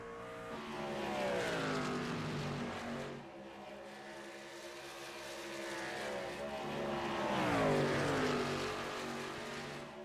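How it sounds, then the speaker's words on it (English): Race car engine in a racing video game at Kansas Speedway, the driver feathering the throttle so the pitch rises and falls in long sweeping swells, loud and continuous with no talk over it. "You hear him feathering the throttle, keep it out of the wall."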